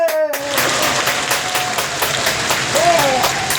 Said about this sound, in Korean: 자기 자신을 위해서 박수 한번 쳐주세요. 박수!